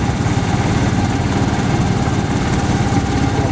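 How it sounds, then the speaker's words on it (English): Antique engines run at a threshing show and tractor pull, a loud, close, steady chugging drone that holds without a break, with no talking over it. "Engines coming up here."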